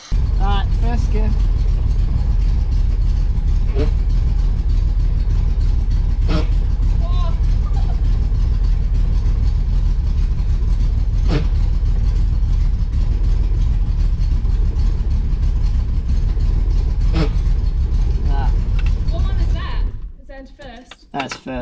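A Datsun 240Z engine runs steadily with a loud low drone and occasional irregular stumbles from a misfire, with intermittent clicks and knocks, before cutting off near the end; people talk over it.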